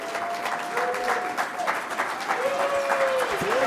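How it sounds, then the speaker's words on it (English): An audience at an alumni award ceremony applauds steadily, with dense continuous clapping filling the room throughout, while a voice speaks over it. "And Michael, we appreciate and we applaud you."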